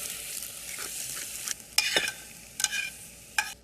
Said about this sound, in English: Mix all that thoroughly and saute for 2 minutes, stirring occasionally.